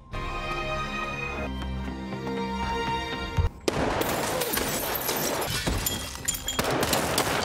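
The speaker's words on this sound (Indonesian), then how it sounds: "Baku tembak pun tidak terelakkan lagi" Film shootout with a sustained, dense barrage of loud gunfire that erupts after a tense stretch of score, the shots piling together into a chaotic roar.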